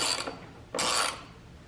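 A ratchet wrench clicks while tightening bolts on an FMF Shorty silencer fitted to a 2017 Kawasaki KX100 dirt bike, two short bursts of close ratcheting separated by a brief pause.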